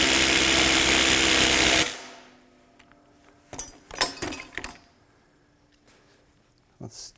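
A RIDGID 18V sub-compact brushless 3/8-inch impact wrench runs loud and steady for about two seconds, then cuts off; a few softer clicks and knocks from handling follow.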